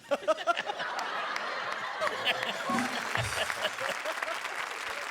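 Loud applause from a live comedy show audience fills the whole stretch as dense, steady clapping, with scattered chuckles mixed in.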